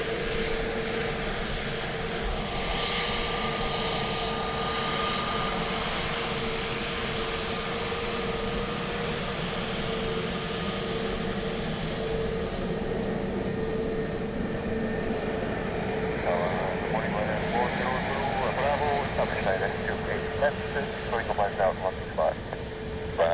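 An SAS airliner from Copenhagen lands on runway 28 left at Dublin Airport, giving a steady distant jet roar that swells slightly near the end while radio voices talk over it.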